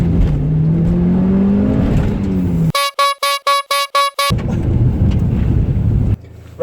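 Mitsubishi Lancer Evolution 6 engine driven hard through an industrial estate, loud continuous roar with a rising rev sweep, then a burst of rapid rhythmic pulses before the steady drone returns.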